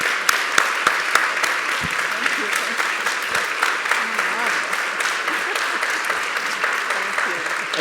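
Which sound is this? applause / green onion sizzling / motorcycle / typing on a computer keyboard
applause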